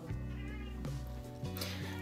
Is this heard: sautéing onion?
no